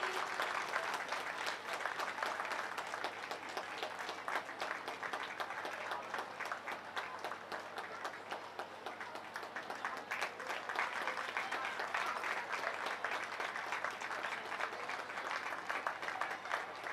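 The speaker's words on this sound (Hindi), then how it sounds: "कृपया जोरदार तालियां हो जाए" A large audience keeps up thunderous, continuous clapping at an honoring ceremony after mementos are presented, the dense applause holding strong and unbroken for the whole stretch.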